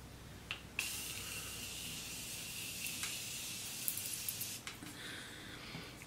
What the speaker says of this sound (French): Je vais mettre mon spray.